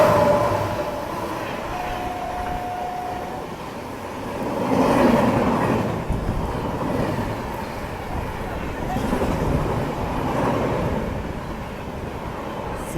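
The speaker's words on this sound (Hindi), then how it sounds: "यहाँ पे कोई तो ट्रेन इटावा को स्किप कर रही है।" The Seemanchal Express runs through Etawah Junction without stopping, a rumbling of wheels and wagons that swells and fades, with a brief horn near the start and people talking over the noise.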